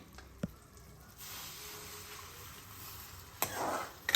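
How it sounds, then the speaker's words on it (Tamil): A soft sizzle and hiss rise as water hits a hot pan, with a faint clink before and a louder bubbling burst near the end. "இதில் நான் தண்ணி விட போகிறேன்"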